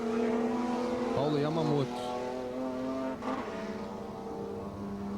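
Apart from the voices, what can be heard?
stock car race cars, replay of car 32 crash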